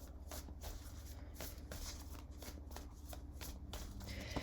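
A deck of tarot cards being shuffled by hand, with a quick, steady run of soft riffling and slapping card sounds, close and quiet, with no talking.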